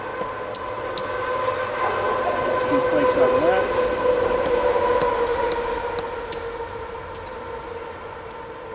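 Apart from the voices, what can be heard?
street traffic noise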